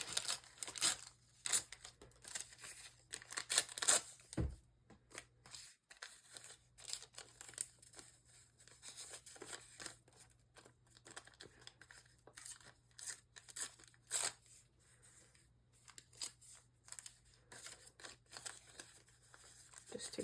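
Paper being torn and handled for a junk journal page, a scatter of faint, close rips, crinkles and rustles over a quiet room hum, coming in irregular bursts with a louder stretch early on.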